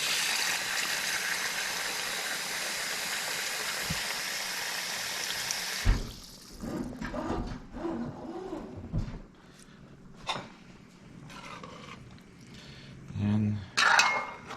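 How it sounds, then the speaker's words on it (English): Water is poured into a pot of catfish curry with okra and green mango, a steady gushing pour for about six seconds, then quieter clinks and stirring in the pot. "And I'll put in some more water inside."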